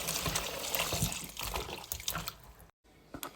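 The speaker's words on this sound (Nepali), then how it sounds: "तातो पानी लगाउँछु र अलिअलि नुन लगाएर है मजाले मोस्छु, धुन्छु" Pork bones being washed with hot water and salt in a kitchen, with running tap water splashing and sloshing in bursts, close and fairly quiet, breaking off briefly near the end.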